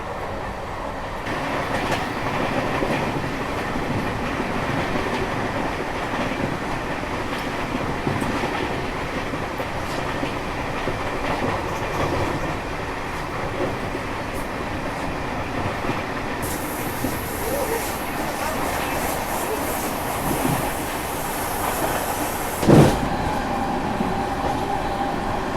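Karnataka Express passenger train, number 12627, running steadily at 120 km/h, heard from onboard as a constant loud roar with rhythmic wheel clatter, a brief hiss partway through and a sharp clank near the end.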